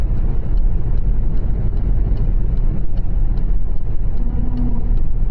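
A car on the road during a driving lesson in Reims: a steady low engine and road rumble inside the cabin, with faint wind noise throughout.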